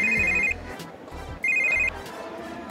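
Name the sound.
phone ringing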